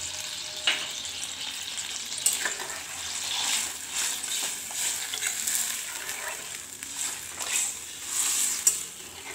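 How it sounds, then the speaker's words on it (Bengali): Water is poured into a hot pan of egg chilli. A loud, continuous sizzle and hiss fills the kitchen, with bursts of bubbling and occasional clinks as it is stirred. "এবার আমি জল দেবো।"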